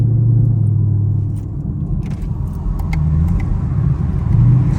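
A Camaro SS exhaust rumbles loudly and steadily up close while driving in the rain, with a scattering of quick crackling pops breaking through partway in.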